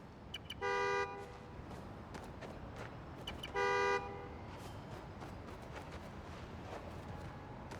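Two long car horn blasts in the video game Marvel's Spider-Man: Miles Morales, a few seconds apart, loud and nearby, over a steady noisy background.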